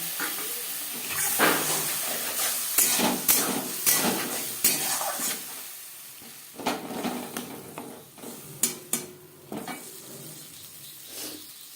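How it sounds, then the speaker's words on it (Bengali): Spice masala for a potato and pointed gourd curry stirred and fried in a pan with a little water, bursts of hissing sizzle and scraping strokes in uneven clusters separated by quieter gaps. "তিন চার মিনিট মশলা বেশ ভালো করে কষিয়ে নেওয়ার পর"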